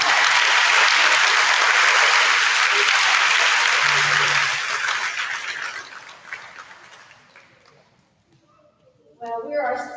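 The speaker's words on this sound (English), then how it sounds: "Let's give them all one last round of applause." A school awards day audience in a cafeteria gives a loud round of applause that fades out, followed by a short pause before talking resumes.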